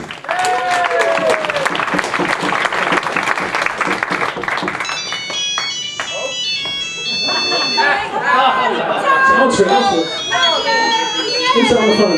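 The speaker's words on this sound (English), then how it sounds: "Give him a massive round of applause" Applause from the audience at a hypnotist's stage show: a loud, dense burst of clapping, with cheering and voices over it and a shrill electronic ringing tone coming through partway.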